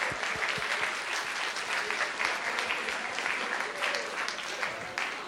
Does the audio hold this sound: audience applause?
yes